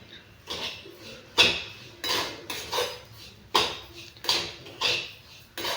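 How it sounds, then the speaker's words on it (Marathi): Cracked wheat (bharda) is dry-roasted in a pan over low heat, and a utensil scrapes and knocks against the metal in repeated stirring strokes about every half second, close up and fairly quiet, with no talking. "मी हा भाजून घेणार आहे साधारण पाच ते दहा मिनटं लागतात बरडा छान भाजायला"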